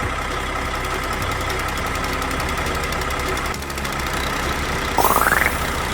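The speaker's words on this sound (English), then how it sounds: "Harvester nodded and moved toward the field." A cartoon combine harvester's engine runs in a steady knocking idle, a continuous mid-range rumble with faint vibration, ending with a short rising whistle-like tone near the close, no voices.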